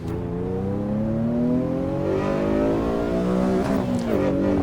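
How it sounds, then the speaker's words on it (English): A Honda engine with VTEC in the racing game Assetto Corsa Evo revs hard and climbs steadily through its VTEC crossover, a loud, continuous rising engine note with no voices over it. "Oh, listen to that, the VTEC crossover in there."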